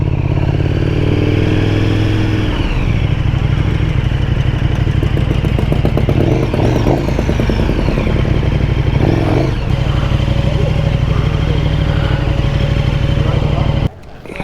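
A crowd of motorcycles at a biker gathering and party, engines rumbling and idling steadily nearby with occasional revs, a continuous loud drone that cuts off abruptly at the end, with voices talking underneath.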